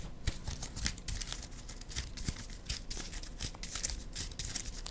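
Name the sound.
shuffling playing cards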